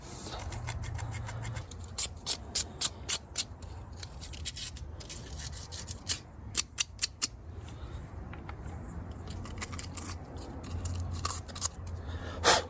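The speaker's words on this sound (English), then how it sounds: "I usually fold up a piece of sandpaper." Folded sandpaper rubbing the dirty ignition points on a 1950 Chevy truck six-cylinder engine, close, quick scratchy strokes in uneven bursts with brief pauses between.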